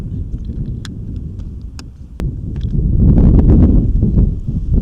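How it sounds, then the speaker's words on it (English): Gusty outdoor wind buffets a microphone beside a car, a low rumbling roar that swells louder partway through, with a few sharp clicks and knocks. "Oh, it's windy."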